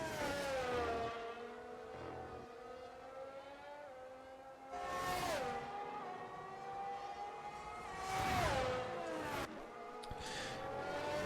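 Race cars accelerating at Imola in a racing video game, a high whining engine tone rising and shifting, with several louder cars sweeping past in bursts over a constant engine drone.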